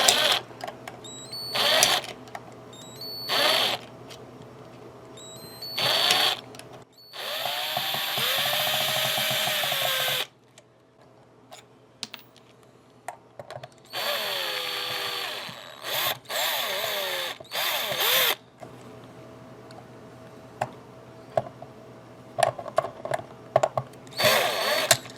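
A power drill works at screws on a Fender Squier Mustang guitar, giving repeated short whirring bursts and several longer spinning runs with rising and falling pitch, close by and separated by quiet pauses.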